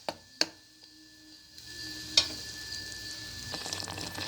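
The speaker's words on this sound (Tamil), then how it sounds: "நல்லா வதக்கி விட்டுறது ஒரு நிமிஷம் நல்லா வதங்கட்டும்" Mutton thokku masala sautés quietly in a pan, a soft, steady sizzle broken by a few sharp clicks and taps of a spoon against the pan.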